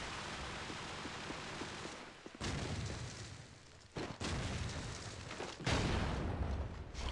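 Grenade blasts in Call of Duty 4 go off as a few sudden, loud, broadband bursts over a steady roar of background noise, each followed by a short rumbling decay.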